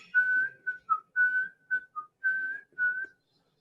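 A person whistles a melody alone, eight clear phrases of sustained and short notes in an uneven tune, close and fairly soft, with no talking.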